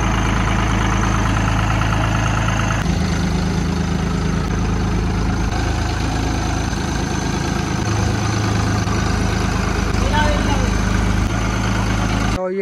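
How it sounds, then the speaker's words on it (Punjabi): A tractor engine idles steadily and loudly close by, a constant low rumble throughout, with people talking over it outdoors. "ਲਓ ਮਿੱਤਰੋ ਧਵਾ ਦਾ ਟਰੈਕਟਰ ਹੈ"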